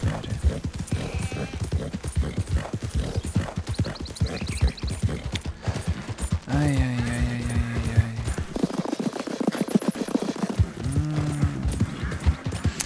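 Horse in the video game Red Dead Redemption 2: steady hoof clip-clop throughout with two drawn-out whinnies midway, set against game ambience.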